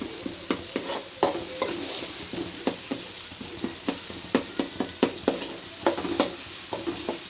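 Tomatoes mashed and stirred with a spatula in a frying pan while making upma, a steady sizzle under repeated close scraping and tapping strokes in an uneven rhythm, with no talking.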